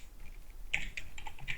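Typing on a computer keyboard: a quick run of crisp key clicks at close range, with no talk.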